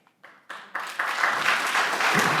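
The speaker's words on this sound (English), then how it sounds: "Please refrain from the applause." Applause starts with a few scattered claps and quickly builds into steady clapping from an audience at a city council meeting, moderately loud and close.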